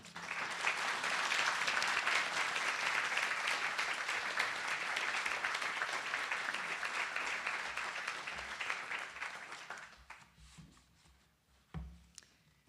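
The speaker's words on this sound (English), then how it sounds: "I now present you to a very warm applause, Althea Banda-Hansmann" A large audience at a University of Oregon speaker series event breaks into sustained, dense applause for Althea Banda-Hansmann, loud and steady for about ten seconds before thinning out into a few scattered claps.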